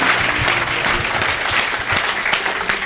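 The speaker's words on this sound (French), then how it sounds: "Acclamez pour Jésus." A crowd at a religious gathering claps and cheers in praise of Jesus, a dense, continuous wash of applause close by, steady in loudness for a few seconds without pause.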